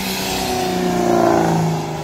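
A fully built, Procharger-supercharged 392 Dodge Charger with straight-pipe exhaust revs loudly and close by, its deep engine note climbing and swelling before easing off in a short burst.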